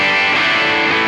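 Electric guitar played through a JHS Morning Glory overdrive preset on a ToneX, a bright, sustained, saturated chord ringing loudly and evenly for about a second.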